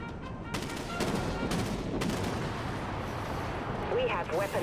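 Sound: ship weapons firing in the video game Dreadnought

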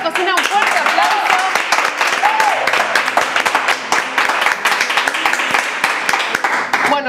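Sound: audience applause for the paella cook

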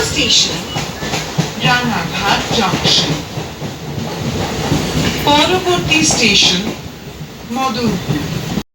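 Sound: train running on tracks

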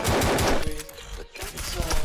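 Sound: handgun gunfire in World War Z Mobile video game

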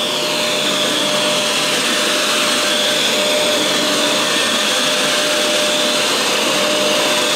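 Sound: Fantom Wildcat vacuum cleaner running

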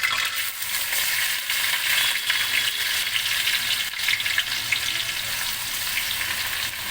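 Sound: washed khichuri ingredients frying in tempering oil

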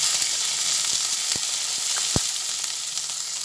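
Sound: chopped onion frying in oil with cumin

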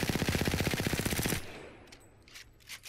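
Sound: CAR SMG gunfire in Apex Legends video game firing range

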